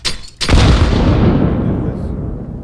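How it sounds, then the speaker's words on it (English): A grenade explodes in Counter-Strike on the Mirage map, a short sharp pop and then a loud, deep boom that rolls on and fades over about two seconds. "You can toss grenades like this to get the bomb planner. I'm throwing a grenade."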